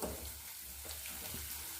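Steady hissing sizzle of spices frying in hot oil as a tempering for saag, close and continuous with no talking.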